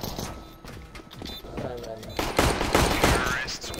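Gunfire in Counter-Strike on the de_vertigo map comes as rapid overlapping shots and bursts, loud and dense, mixed with other game noise and voices speaking over it.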